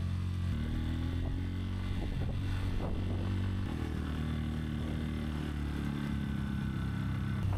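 A motorcycle labors uphill in first gear on a rough mountain trail in Bandarban, its engine droning loud and steady with revving surges and some clatter, no speech.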